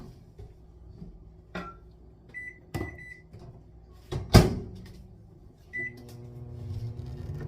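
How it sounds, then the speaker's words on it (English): A microwave oven heating a quarter cup of vegetarian taco filling in a container, with a door clunk, short beeps and a steady low hum building toward the end, close and fairly quiet. "I'm just gonna pop it in the microwave and heat it up"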